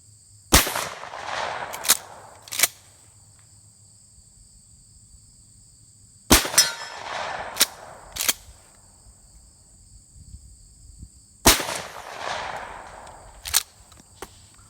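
A shotgun fires 7/8 ounce Lee key drive slugs. Three loud, sharp reports come several seconds apart, each trailing off with echo and followed by quieter mechanical clicks.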